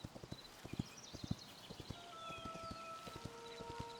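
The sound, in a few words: undead horse hooves clip-clopping in video game Hytale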